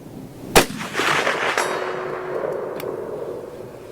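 A Romanian M56 SKS rifle fires one sharp, loud shot at an outdoor range, followed by a long rolling echo and a faint metallic ring from a distant target.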